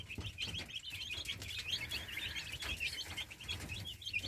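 Young chicks peep in a continuous high, busy chorus of overlapping chirps, fairly faint and close, with soft rustling underneath and no talking.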